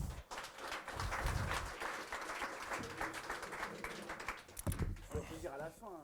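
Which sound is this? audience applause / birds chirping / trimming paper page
audience applause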